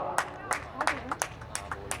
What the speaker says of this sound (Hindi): ताली बजा के अपने आप को प्रोत्साहित कर रहे हैं।